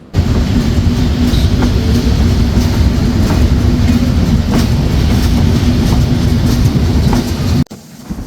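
The Silkcity Express passenger train runs on rails in light rain near its Mirzapur stop, a loud steady rumble with faint clickety-clack wheel beats that cuts off abruptly just before the end.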